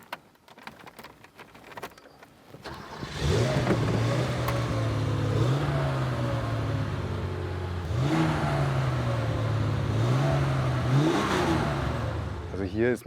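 Porsche 2.7 engine cranks and fires after a few seconds of quiet, then settles into a loud, close idle with repeated throttle blips rising and falling; voices are heard briefly at the start.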